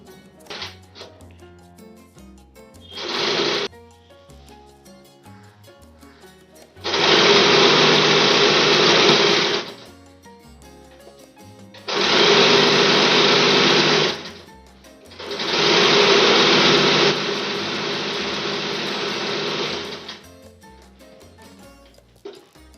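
A sewing machine stitches a zigzag seam during home stitching and alteration work, running in three loud, steady bursts of a few seconds each, with a short whir and faint clicks between them.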